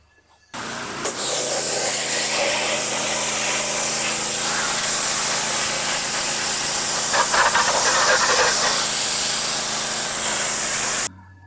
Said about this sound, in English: I may as well try and blast this stuff out, try and remove any loose paint again